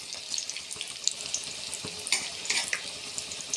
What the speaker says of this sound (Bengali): এই যে আমি কোপ্তাগুলো ভাজছি, ভাজা করছি, তো লাল লাল করে ভাজা করব